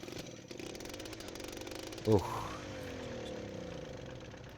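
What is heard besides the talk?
tractor engine starting in video game Farming Simulator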